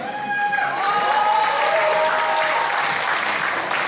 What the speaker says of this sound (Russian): Итак, ваши громкие аплодисменты.